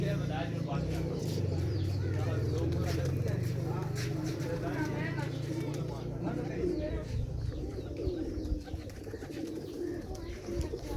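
Pigeons on a rooftop coo softly in repeated low bursts. Someone talks over them, and birds chirp faintly in the background.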